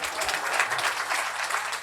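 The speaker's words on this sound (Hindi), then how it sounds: "ताली बजानी है तो जोर से बताओ।" An audience at a book launch event applauds in a steady, dense wash of clapping that fills the room throughout.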